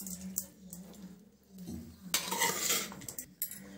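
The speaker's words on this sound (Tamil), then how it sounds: "இப்போ நல்லா இந்த மாதிரி கலந்து விட்டுக்கோங்க." A spoon scrapes and clinks against a metal pot while mixing cooked lemon rice, the stirring coming in uneven rubs and knocks, close and fairly quiet, with no voices.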